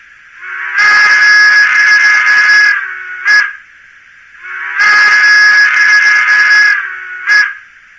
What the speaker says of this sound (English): Then function 2 is obviously the whistle